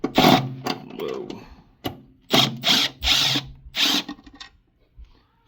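A power drill removes the cover screws from an electric water heater in several short, loud bursts of whirring, separated by brief pauses, with faint clicks and handling noises between them.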